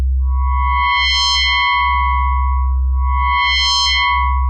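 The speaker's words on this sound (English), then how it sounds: "Kind of those glassy sounds that FM's often known for." An FM synthesizer plays two sustained glassy tones, each rich in bright, distinct overtones and layered over a deep, steady bass drone. The tones are loud and electronic, with no voice.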